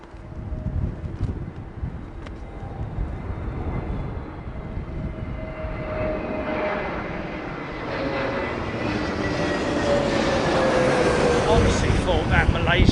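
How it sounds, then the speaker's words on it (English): A Malaysian jet airliner about 100 yards away powers up its engines during stormy, windy weather, a loud broadband roar with a rising whine that swells steadily and grows louder toward the end. "Honestly thought that Malaysian jet was going around, man. Did you hear him power it up, literally 100 yards in front of me?"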